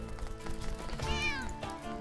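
A stray cat in the video game Crossroads Inn meows once in a long, rising-and-falling call over a steady background of game music and ambience.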